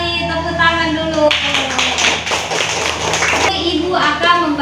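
A classroom of children clapping together on a teacher's cue, a dense burst of claps lasting a couple of seconds, with voices and talk before and after.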